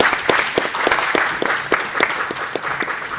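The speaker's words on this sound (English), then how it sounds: "A round of applause, everyone." A small group at the close of the Borneo Trail Classic press conference applauds, with sparse, distinct claps that come in an uneven, fairly close patter.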